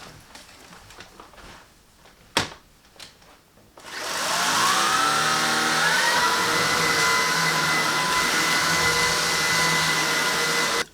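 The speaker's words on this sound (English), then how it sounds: "So hoovering this place and see if there's any hair left in the roller." A Shark anti hair wrap cordless vacuum cleaner (IZ201UK) is hoovering a bedroom: a few handling clicks and knocks, then the motor starts and runs as a loud, steady whine with a high pitched tone.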